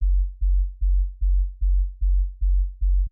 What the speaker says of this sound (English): So the sub bass layer sounds like this.